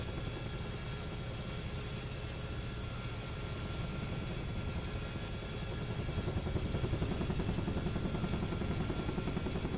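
A UH-1H Huey helicopter in a video game gives a loud, steady rotor thump over a dense turbine and engine roar, growing slightly stronger in the last few seconds, with no voices.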